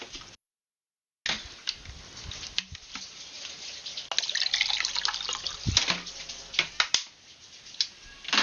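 Tap water runs steadily into a container at close range, with scattered splashes and drips and a brief silent gap near the start; no one speaks.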